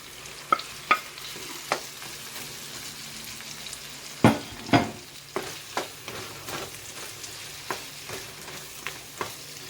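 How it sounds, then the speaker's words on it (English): Jamaican corn pork dropped into a hot pan, a quiet sizzle under a series of sharp spoon-and-pan scrapes and knocks, with a louder burst of clatter midway as it is stirred. "So now I'm going to add my corn pork in."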